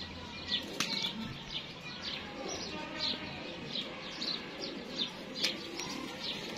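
Indian pigeons kept by a hobbyist, giving repeated soft chirps and coos with occasional wing flaps, moderately close over a faint background hum.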